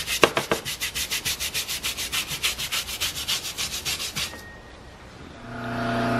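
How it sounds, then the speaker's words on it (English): A Tough Shine tire brush scrubs a car tire in a quick, even rhythm of about twenty close, raspy bristle strokes, then stops, leaving a quiet pause before faint background noise rises. "Tough Shine tire brush."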